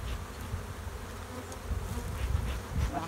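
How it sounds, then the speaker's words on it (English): Honey bees buzz around a beehive crowded with burr comb and drone brood, a dense, steady, close hum with droning swells and no voices. "Getting down with the bees."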